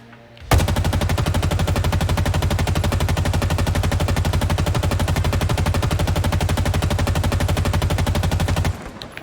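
Halo Infinite assault rifle fires one long, unbroken, loud automatic burst with a fast even rhythm of shots, starting abruptly and stopping cleanly near the end, with no talking.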